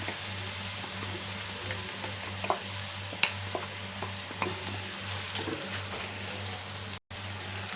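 Mutton and ground masala sizzle steadily in a hot frying pan while a utensil stirs and scrapes, with a few sharp clinks against the pan.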